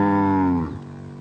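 A single loud, close cow moo with a rich harmonic bellow that holds for about half a second and then fades, heard at an evening Mundari cattle camp where the cows are tied up.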